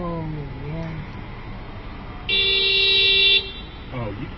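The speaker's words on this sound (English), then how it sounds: "you keep honking, buddy" A car horn honks near Beaver Bridge close to Eureka Springs: one clear, steady blast of about a second, heard over outdoor background noise, with voices speaking before and after.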